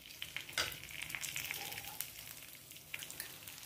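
Urad dal and raw peanuts roast in a pan with chili and hing. Soft, fairly faint crackling and sizzling comes through, with a few light stirring scrapes and taps and no talking.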